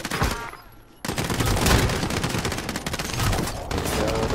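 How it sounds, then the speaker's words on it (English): Gunfire in the video game Warzone, including a sniper shot, with a sharp report after a quiet opening, then a dense rapid burst of shots and crackling impacts continuing loudly to the end. "Somebody sniping."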